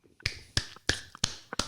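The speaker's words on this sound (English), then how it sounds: "My clap there" A single sharp hand clap or snap is repeated five times in a steady rhythm, each one loud, close and crisp with a fast decay, with no talking around it.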